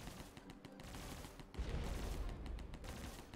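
Turret fire in the Airheart demo, a faint rapid rattle of shots that grows into a denser, heavier barrage partway through, under a busy game backdrop.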